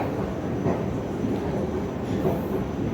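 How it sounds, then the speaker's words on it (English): Train running at night in Berlin, a steady close rumble of wheels and carriage noise with soft rhythmic clatter, constant and unbroken with no voices. "At least the trains are still running."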